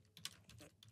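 Keystrokes on a computer keyboard in a quiet room, a short burst of several quick, irregular clicks with one sharper tap standing out.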